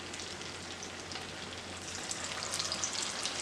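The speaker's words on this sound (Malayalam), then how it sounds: "നന്നായി ഫ്രൈ ആയിക്കോളൂ കേട്ടോ." Egg bajji deep-frying in plenty of hot oil, a steady dense crackling sizzle that stays close and even throughout, growing slightly busier toward the end, with no voices over it.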